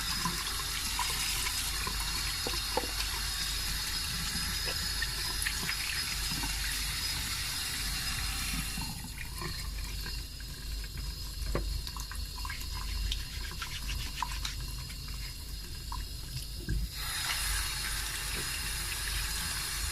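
Hot water runs steadily in a shower room, a continuous hissing splash whose tone shifts partway through, then returns to its first character near the end.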